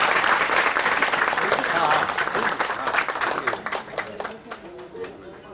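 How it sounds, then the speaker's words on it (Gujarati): A crowd at a religious gathering in Bhatpor applauds in a thick burst of clapping that gradually thins and fades toward the end, with some murmuring voices underneath. "આપણે તાળીઓથી વધાવી"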